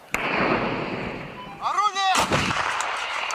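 A sharp artillery blast opens over a sustained roar, followed by a whistling streak and another heavy boom, loud and close.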